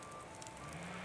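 Outdoor bonfire crackling softly, with a hissing, sizzling wash and a few faint pops, close by and brief with no speech.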